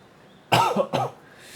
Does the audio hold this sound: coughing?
yes